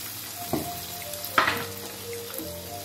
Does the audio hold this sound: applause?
no